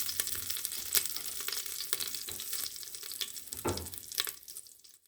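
Cumin seeds and about two tablespoons of oil sizzle steadily in an Instant Pot, a bright continuous crackle punctuated by sharper pops and spits, fading out near the end.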